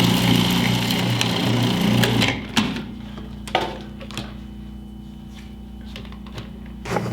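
A food processor mixes chocolate cookie dough, a loud steady motor whir for about two seconds before it shuts off, leaving a low hum with a few light clicks and knocks.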